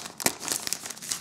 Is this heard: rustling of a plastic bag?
yes